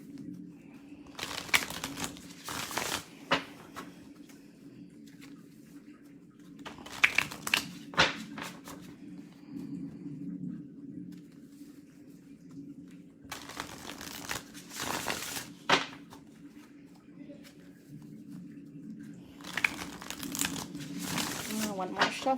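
Tarot cards are shuffled in several bursts of crisp riffling and rustling, close by, separated by quieter pauses with a low steady hum.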